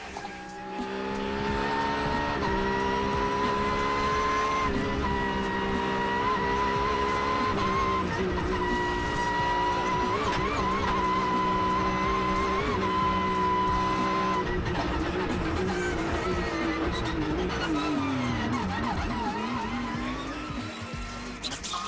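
V8 rally car at a rally event accelerating hard, a loud sustained engine roar heard from inside or close by, pitch climbing and holding through gear changes before dropping, with no talk.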